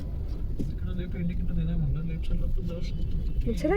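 Steady low road rumble from inside a car moving through heavy city traffic, continuous and moderately quiet, with people talking over it throughout.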